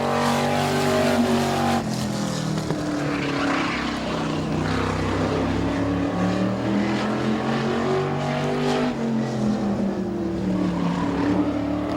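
Race car at Midvale Speedway at full throttle from the green flag, its loud engine roaring steadily with rising and falling pitch as it runs through the lap, no voices over it.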